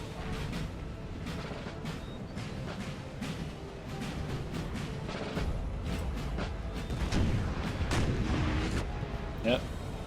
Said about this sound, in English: The French have a lot of artillery at their disposal.